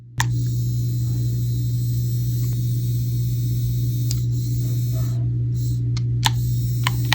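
A Mobapad Switch game controller's rumble motor gives a steady, low electric buzz that hums without a break as it vibrates against a surface, with faint ticks now and then.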